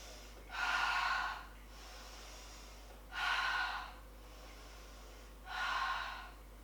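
Heavy, deep breaths during a beginner yoga pose, three slow, evenly spaced exhalations of close, breathy air, with quiet pauses between them.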